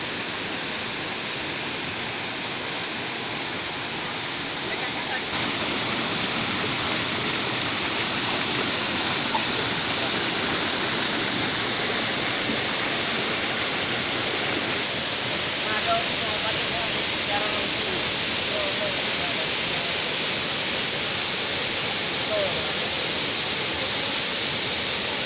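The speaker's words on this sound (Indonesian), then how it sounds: "Ini dia air terjun tenang atau air terjun tingkat 3" A three-tiered waterfall in Indonesia roars continuously as a loud, steady broadband rush with no breaks.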